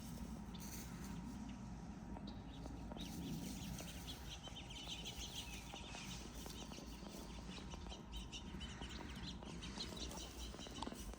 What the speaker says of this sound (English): Alright, I got 5 hens over here.